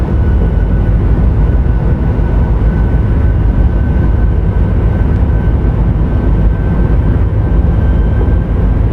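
A PRR V2 Santa Fe Express steam locomotive in a train video game rumbles loudly through a tunnel, a dense, unbroken engine roar that holds steady throughout with no voices.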